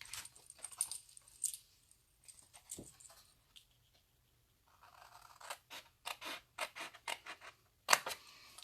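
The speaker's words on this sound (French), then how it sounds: "On va juste venir couper le long de notre ligne de pli ici." Scissors cut folded paper along a crease during a twisted double-opening box craft: quiet, intermittent snips and paper rustles come in short clusters, sparse early and denser toward the end, with no talk.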